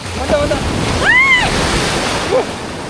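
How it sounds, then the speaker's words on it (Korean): Ocean surf rolling onto the sand at Gwanmaedo beach in Jindo, Korea, a steady broadband wash of breaking waves with wind noise on the microphone, while people shout and chatter excitedly over it. "파도 좋은데? 계속 오는데?"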